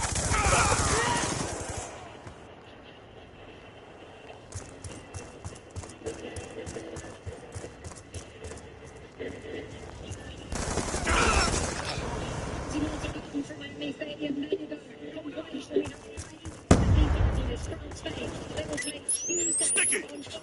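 Bursts of automatic gunfire in the video game Black Ops 2 on PS5 ring out repeatedly, loud volleys separated by quieter stretches, with voices talking between shots.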